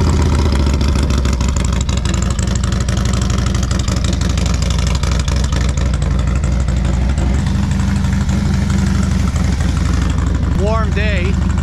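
A Harley motorcycle engine idles steadily after a cold start, a loud continuous low rumble with a constant rhythmic throb that persists throughout, on a warm day outdoors.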